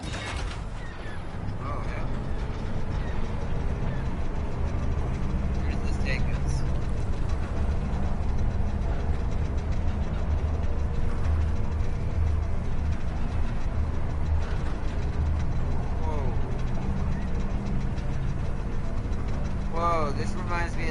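A creaking tram ride in Star Wars Jedi: Survivor, with continuous mechanical rattling, grinding and squealing of a moving car over a steady low rumble, lasting throughout.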